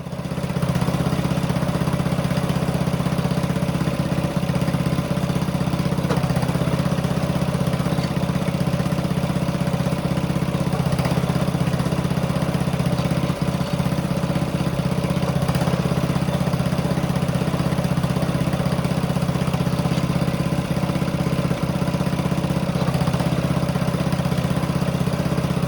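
A single-cylinder Farmall M tractor engine idles steadily and loudly up close, a constant low, even chug that holds without a break for the whole stretch, with no voices over it.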